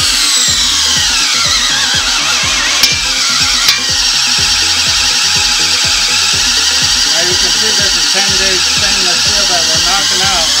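Cordless drill fitted with a nut driver bit running a fastener, likely into stainless steel, a loud steady whirring motor with rhythmic pulsing throughout and a couple of sharp clicks early on.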